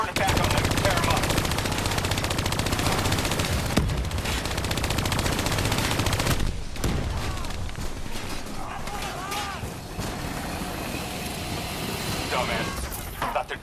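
Heavy turret gunfire from Call of Duty Black Ops 3 rattles in loud, sustained automatic bursts for several seconds, then eases into scattered shots, clanks and battle noise.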